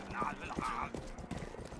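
Horse hooves clip-clop in the Western video game Rustler as a stolen horse sets off, quick uneven hoofbeats close by with faint game noise around them and a voice talking over parts.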